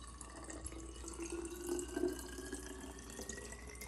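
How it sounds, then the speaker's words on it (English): Water from a pitcher pours into glass water bottles, a faint, steady trickling stream with a slight rising tone as the bottle fills, heard alone without talk. "And just fill your bottles up."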